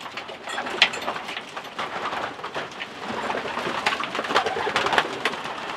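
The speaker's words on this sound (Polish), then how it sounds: "tutaj jesteśmy akurat w tym gołębniku" Racing pigeons coo and flutter inside a loft, a dense continuous chorus of soft cooing calls with occasional sharper wing and foot sounds, close and steady throughout.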